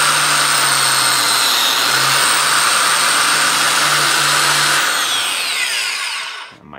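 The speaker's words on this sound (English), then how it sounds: "All right, we're gonna do a cut in the side grain now." A Ryobi biscuit joiner cuts into the side grain of a wood piece with a loud, steady high-pitched whine. The motor runs continuously for several seconds, then spins down and fades out at the end.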